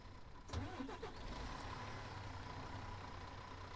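Tractor engine in the ranching video game Ranch Simulator cranking and catching, then settling into a steady, rumbling idle, faint and continuous with no talk.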